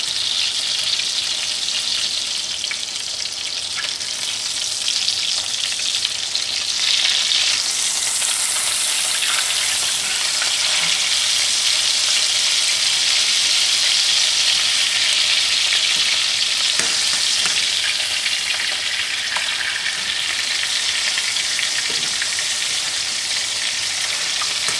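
Salisbury steak frying in plenty of oil in a tilted skillet, a loud, continuous close sizzle with occasional crackles and pops over about twenty-five seconds, no voices.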